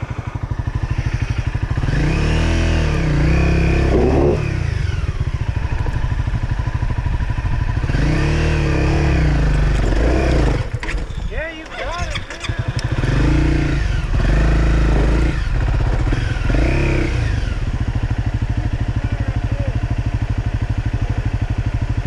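A dual sport motorcycle on a rough trail, its engine revving in repeated rising and falling surges over a rumbling idle, close and loud, with clattering mid-way.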